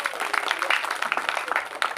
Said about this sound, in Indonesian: Tepuk tangan untuk Indonesia ya.